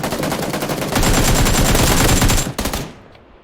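Machine gun fire in PUBG PC Lite team deathmatch, a loud rapid continuous burst of shots that cuts off and fades near the end.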